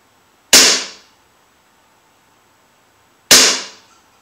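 An Umarex Beretta M9A3 .177 air pistol firing: two sharp, loud, close snapping shots about three seconds apart, each with a quick decaying tail, separated by quiet.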